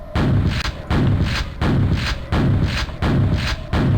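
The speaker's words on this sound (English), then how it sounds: "The grenade and rocket launcher will explode and kill you" Grenade and rocket launcher explosions in a Call of Duty game sound as a steady run of about six heavy, booming thuds, evenly spaced roughly every 0.7 seconds, loud and close with no talk over them.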